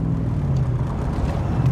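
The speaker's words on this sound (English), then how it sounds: "Downshifting through the gears nice." Engine of a 1965 Shelby Cobra Backdraft, a steady low rumble with a droning hum heard from inside the car, without clear distinct shift changes.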